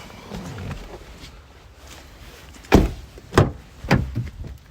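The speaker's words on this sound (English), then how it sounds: "Pop the bonnet." A few sharp mechanical clunks and thumps in quick succession as the bonnet latch of a 2017 Nissan Navara 2.3 dCi pickup is released and the lid lifted, close by.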